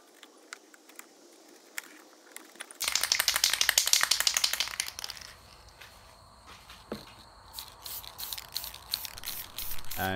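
Screws set in a cardboard box are coated from a clear coat spray can. Light rattles and taps lead into a loud hissing burst of spray, then scattered rattling and shorter sprays.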